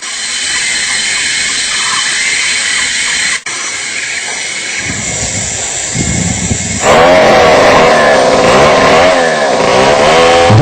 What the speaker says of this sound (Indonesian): Deru suara gergaji mesin terdengar dari puncak hutan lindung Bukit Itap